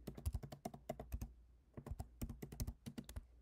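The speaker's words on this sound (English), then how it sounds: "we're going to type in the team names" Fast, continuous typing on a computer keyboard, sharp close key clicks in quick bursts with a brief pause midway, no voices.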